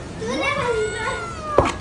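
A cat meows in a drawn-out, wavering cry near a fishing catch, with a dog also present, followed by a brief sharp knock near the end.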